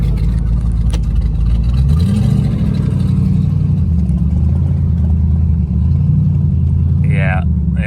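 A twin-turbo Pontiac G8 at a drag racing event idles with a deep, loud drone, rising and falling through rev changes, while a voice talks briefly near the end.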